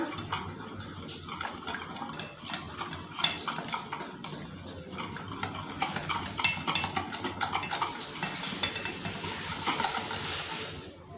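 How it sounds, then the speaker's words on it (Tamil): An egg, salt and marinade mixture for chicken 65 being stirred in a bowl, with steady scraping and clinking of a utensil against the dish continuing throughout, no voices. "இப்போ எல்லாத்தையும் நல்லா கலக்கி விடுங்க"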